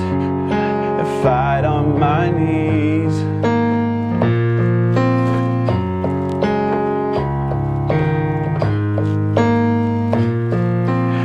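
Piano chords played in a slow sequence, each ringing with a rich, slightly tense added-ninth color; a voice briefly speaks over the opening.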